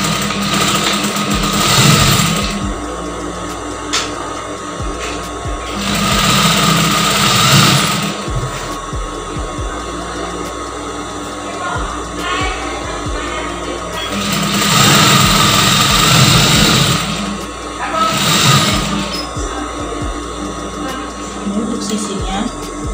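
A sewing machine stitches the side seam of a blouse in repeated bursts of fast, close whirring with short pauses between runs, while someone talks over it.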